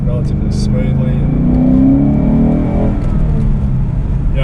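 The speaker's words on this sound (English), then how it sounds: "we are sort of in a suburban area now, and the car drives relatively smoothly" A car drives smoothly through a suburban area, its steady engine hum and road noise heard from inside the cabin, with a slight rise in engine pitch midway.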